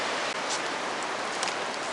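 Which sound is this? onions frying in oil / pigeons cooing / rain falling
rain falling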